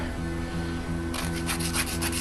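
An emery board rasps against the edge of an aluminum tube to bevel it, quiet at first and then a rapid run of close, scratchy back-and-forth strokes over a faint steady hum.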